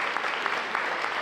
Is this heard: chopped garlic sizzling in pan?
no